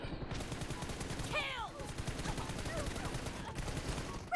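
Rapid automatic gunfire from PUBG Mobile chatters continuously in dense, fast bursts, loud and close, with someone speaking excitedly over it.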